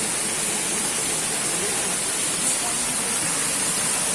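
Water rushes into a mill channel upstream, a steady, loud broadband roar of flowing water with no breaks, close by and constant throughout.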